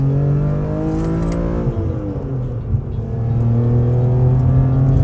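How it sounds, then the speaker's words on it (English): A BMW E46 M3 engine drones loudly at close range, its exhaust note rising and falling as it revs, with a whirring induction roar from its carbon airbox throughout. "that wonderful exhaust note and that absolutely awesome induction noise from that carbon airbox under the bonnet"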